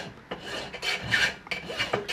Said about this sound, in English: And you tighten the vise up, then basically file